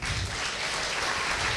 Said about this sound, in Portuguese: Aplaudir a Van, gente.